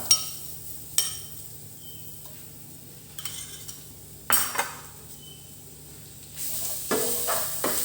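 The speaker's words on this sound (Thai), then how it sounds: "ใส่น้ำมันพืชลงไปครับ พริกแห้งกระเทียมที่โขกครับ" Dried chili and pounded garlic frying in vegetable oil in a pan, a soft steady sizzle with a few sharp clinks of a utensil against the pan and stirring scrapes.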